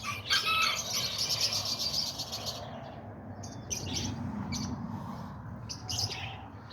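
Chickens and a big rooster in a backyard coop let out overlapping clucks, chirps and calls at close range, with bursts of high crowing-like cries over a constant low scratchy background.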